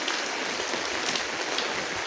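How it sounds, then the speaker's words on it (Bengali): Rain falls steadily outdoors just after dawn, a dense, even patter and hiss of drops on surfaces that holds at one level from start to end, with no voices. "দেখেন কি সুন্দর পরিবেশ, আর বৃষ্টি, রহমতের বৃষ্টি।"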